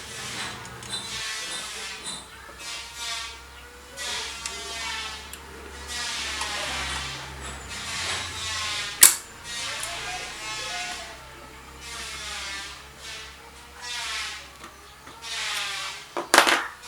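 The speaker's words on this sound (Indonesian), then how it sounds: "kemudian pasang baut pengunci, kemudian dikencangkan" A circular saw blade's locking bolt is tightened clockwise, giving a sequence of ratcheting metallic turns and scraping clicks with short pauses, a sharp clack partway through and another near the end.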